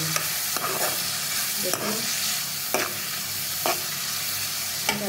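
Beef keema with tomato fries in a pan, a constant close sizzle broken by regular scraping strokes of the spoon about once a second, with a single word spoken briefly.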